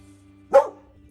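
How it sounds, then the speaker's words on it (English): A 15-year-old dog lets out a single short bark, close and alone against a low steady hum. "I've got a 15-year-old dog and she hears or sees a shadow as she's barking."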